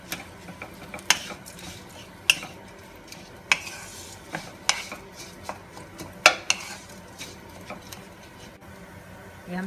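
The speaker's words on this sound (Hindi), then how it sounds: "हम इसमें ये आलू डालेंगे अपने और इसको अच्छे से मिक्स" Potatoes being stirred into roasted cumin and coriander in a pan for a vegetable samosa filling, with repeated scraping clinks of a spoon against the pan over a soft steady sizzle, no talk.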